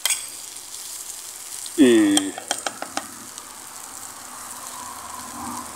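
Onion hits hot oil in a pan on a homemade tin-can stove, bursting into a short loud sizzle followed by a few stirring clicks and taps, then quiet crackle.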